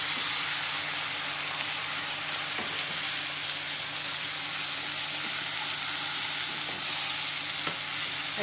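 Chopped cabbage and green peas frying in a pan, a steady even sizzle with occasional faint clicks of stirring, no voices.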